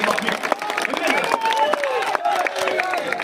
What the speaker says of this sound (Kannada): ನೀವೆಲ್ಲರೂ ಅಭಿನಂದನೆಯ ಚಪ್ಪಾಳೆ ಹೊಡಿತಾ ಇದ್ದೀರಾ ಅಂತಾನೆ ನಾನು ಭಾವಿಸ್ತೀನಿ